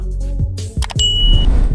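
A bright bell-like ding rings out over a low musical backing, followed by a sustained high tone.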